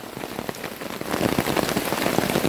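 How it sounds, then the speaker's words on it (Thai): Rain splashes onto a ground sheet at a jungle camp, a close, dense patter that grows heavier partway through. "ฝนสาดมาหน่อยนึงครับ"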